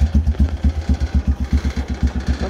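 A loader's diesel engine runs at idle, throbbing in a steady, fast rhythm of deep pulses, loud and close, with no talking.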